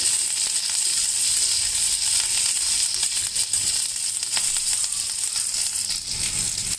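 Dried red chillies and curry leaves crackle and sizzle in hot oil, a loud, continuous close-up frying hiss with faint stirring, no talk.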